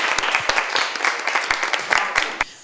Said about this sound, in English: That really deserves a round of applause.